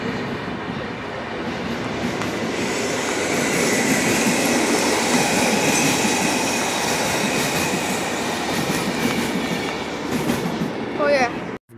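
The Hebeliusz passenger train, hauled by a Griffin locomotive, passes through Poznań Główny station: a loud, steady rumble of cars and wheels with clattering rail joints, and a brief squeal near the end.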